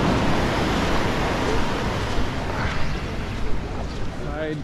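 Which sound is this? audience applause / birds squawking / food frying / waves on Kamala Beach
waves on Kamala Beach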